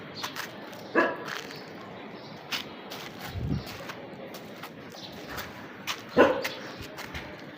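A dog barks a few times at a distance, sharp isolated barks scattered over a low background hum.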